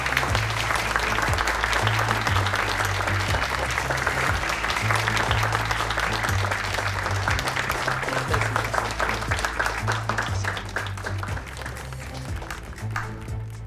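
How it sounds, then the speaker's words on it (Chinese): Long, warm round of audience applause at an award ceremony welcoming a winner to the stage, steady and dense throughout, with a low musical tone running beneath. "让我们以最热烈的掌声欢迎郭丽颖医生。"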